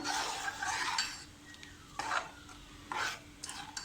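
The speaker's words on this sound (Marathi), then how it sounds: "हे व्यवस्थित आपण असं ढवळून घेऊया" A spoon stirs ground masala through a Malvani prawn curry in a metal pot, giving a few scraping, clinking strokes separated by brief quiet gaps, close and fairly soft, with no talking.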